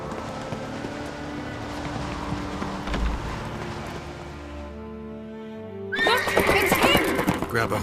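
In the Witcher 3 video game, a horse whinnies loudly over a music score and background ambience, followed by a burst of busy hoofbeats and movement noise.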